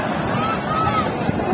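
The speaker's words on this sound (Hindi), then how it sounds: "ये देखिए लहरे समुद्र का लहरे देखिए" Sea waves roll and wash onto a beach on an evening outing, a steady surging roar with wind buffeting the microphone and people talking faintly nearby.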